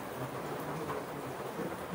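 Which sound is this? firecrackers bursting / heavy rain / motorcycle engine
heavy rain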